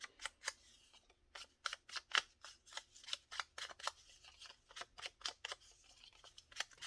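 Scissors snip rapidly through paper while trimming pieces for an accordion fold junk journal, a quick run of close, crisp cuts in an uneven rhythm with no talking.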